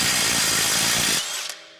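Power tool loosening a 21 millimeter nut on a 2018-23 Toyota Camry during CV axle replacement: a loud, steady whirring rattle of an impact driver that runs about a second and then cuts off, leaving a faint tail.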